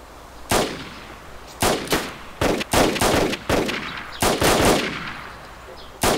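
Loud bursts of rapid gunfire in the video game DayZ crack out in several separate volleys, some short and some longer, with quiet gaps between them.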